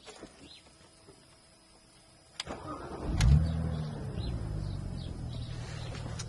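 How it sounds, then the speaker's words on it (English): A BMW Z4 E85 2.5Si roadster's six-cylinder engine cranks with a sharp click, then fires and settles into a steady, throaty idle, loud and close. "So let's start the throaty 6-cylinder up."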